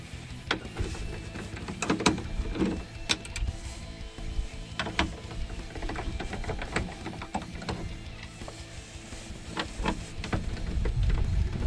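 Screws are backed out of a door speaker on an F-body Camaro with a whirring driver, with irregular clicks and short motor bursts over a steady low background hum.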